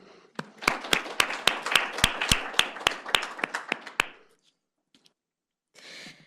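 A small group at a policy symposium gives the staff a short round of applause, sparse and distinct claps in a quick uneven rhythm for about four seconds, then quiet and a brief breathy noise.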